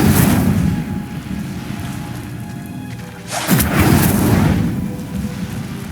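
Spell-casting blasts from the video game Hogwarts Legacy: loud, booming, explosive bursts with a roaring rush sweeping through the middle, dense and continuous over a low rumble.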